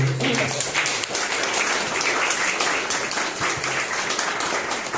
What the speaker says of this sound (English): we all owe Terry a great round of applause